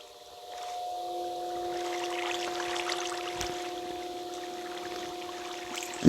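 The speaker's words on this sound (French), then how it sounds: "Une cascade." A steady, rushing waterfall from the video game Minecraft fills the clip at an even, moderate level, with a brief click at the very end.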